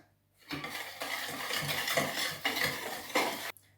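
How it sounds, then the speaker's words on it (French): A whisk beats egg yolks and sugar in a bowl for a strawberry tart, a close, steady scraping rhythm with regular strokes that stops abruptly. "Mélangez pendant 1 minute les jaunes d'œufs et le sucre jusqu'à ce que le mélange blanchisse"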